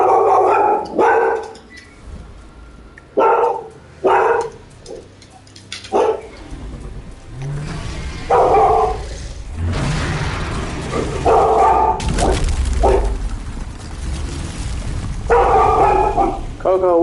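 A dog barks in repeated loud bursts of one to three barks, close by, with gaps between them and household noise and voices in the background.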